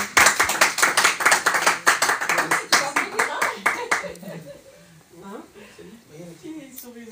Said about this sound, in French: Tu peux applaudir ta maman